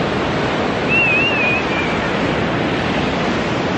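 Beach surf rolls in a constant loud wash, mixed with heavy wind buffeting the microphone, with no talking throughout.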